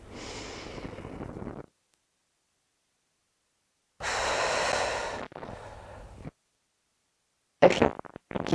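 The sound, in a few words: deep breathing, inhaling and exhaling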